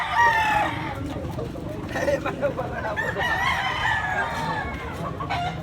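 Roosters crow repeatedly at a Consolacion, Cebu chicken market where fighting cocks are traded, several calls overlapping with clucking fowl and a busy crowd murmuring underneath; people talk nearby.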